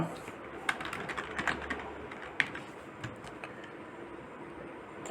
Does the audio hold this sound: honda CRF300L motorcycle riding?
no